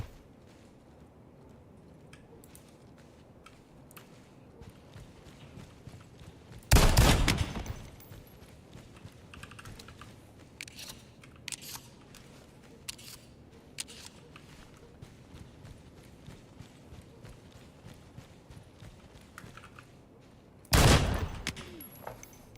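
Video game gunfire aimed at the player: two loud, dense bursts of shots about fourteen seconds apart, with scattered fainter pops and clicks between them and no talking.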